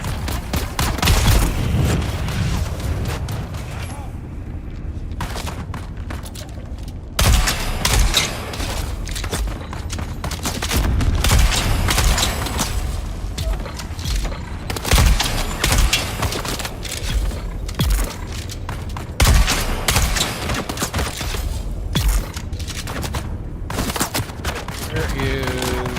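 Rapid bursts of gunfire from the video game Dune Awakening crack in repeated volleys over a rumbling game soundscape, with a person talking at times between the shots.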